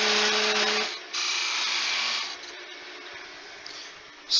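A wood lathe cutting a coaster blank, a loud, close, steady high whir that drops off briefly and then returns, with no talking.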